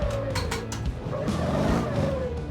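A car engine revs hard and holds a high whine while drifting in the Motor Town driving game, loud and continuous, with a faint hint of tire scrub underneath.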